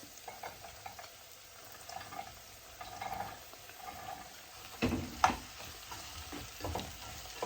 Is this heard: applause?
no